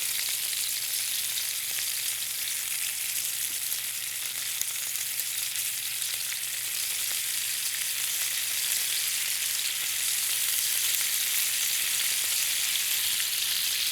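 Steak tips sear in a hot pan with a steady, loud, unbroken sizzle and hiss, close up and continuous throughout with no talking.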